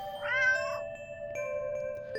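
A stray cat in a video game gives one clear, drawn-out meow close by, set against a quiet sustained musical tone.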